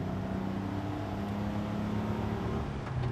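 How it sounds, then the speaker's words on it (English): 23-window Volkswagen bus engine driven at full throttle, a steady droning air-cooled roar with a sustained low hum, heard from inside while driving. "A little Rev Match Downshift. There we go. Full out, all throttle."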